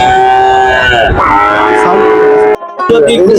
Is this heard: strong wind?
no